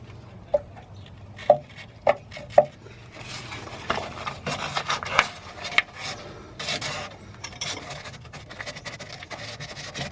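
Corroded brake pipes are sanded clean: a few sharp metallic taps early on, then bursts of gritty rasping and rubbing, close and uneven, without talk.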